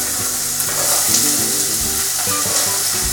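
Chopped vegetables for a lasagne base sizzle loudly and continuously in a very hot pan, a bright crackling hiss with occasional stirring scrapes, no voices.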